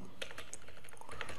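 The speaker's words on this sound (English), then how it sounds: "So I'm going to type in my question right over here again." Fingers type on a computer keyboard in a quick, uneven patter of close clicks and key taps, with no voices.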